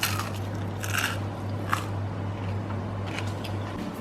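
Someone bites into crispy oven-baked pork, giving crunchy, crackling bites and chewing close to the microphone over a steady low electrical hum.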